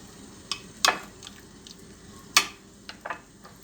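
Spoon stirring garlic into yogurt in a bowl, a few sharp clinks and scrapes against the bowl with soft wet mixing sounds in between, close and otherwise quiet.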